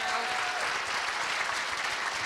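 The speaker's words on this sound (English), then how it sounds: "let's take a moment to do a great round of applause for that awesome speech right now" An audience at an interfaith dinner gives a dense, steady round of applause after a speech, an even wash of many hands clapping at moderate distance without letting up.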